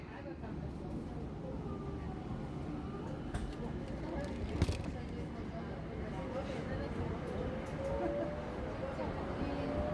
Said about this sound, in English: This was the autonomous train system and it saves a lot of energy and time.